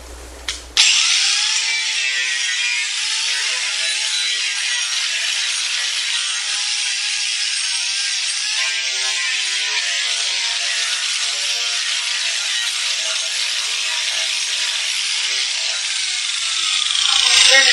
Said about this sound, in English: I just took my grinder and I just blended everything